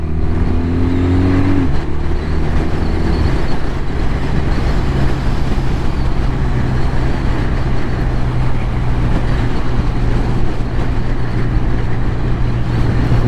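BMW R12nineT motorcycle on a demo ride along a road, a steady loud engine drone with wind rumble throughout, a low revving tone settling after the first couple of seconds, no talking.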